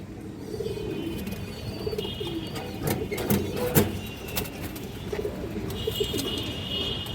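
Kaldom pigeons, an Indian high-flyer breed, coo in a steady low murmur that fills the whole stretch, with a few sharp clicks and a faint high hiss above.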